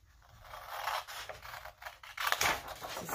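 Scissors snip through material to cut out a farm animal puppet piece, close and quiet, with irregular crisp cutting strokes and scraping between them.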